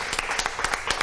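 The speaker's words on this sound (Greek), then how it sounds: "Και πάμε ένα μεγάλο χειροκρότημα από Στόλικο Βρατζάς." A studio audience on a Greek television show claps in a short, dense burst of applause with a quick, uneven rhythm and a fairly close, full sound.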